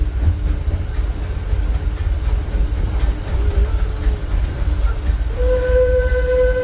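Disneyland Railroad train rolling along its rails, a loud continuous rumble and clatter with steady low drone, and a tonal whistle-like hum rising near the end.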